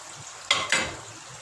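Yogurt and cream mixture poured into a pan of restaurant-style chicken ginger on low flame, two short bursts of sizzling and stirring about a quarter second apart over quiet kitchen background.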